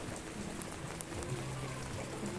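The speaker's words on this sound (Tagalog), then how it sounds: "malakas pa rin ang ulan" Steady rain hisses evenly as a constant wash of noise, with a faint low hum underneath and no voices.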